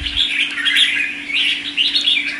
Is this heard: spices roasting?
no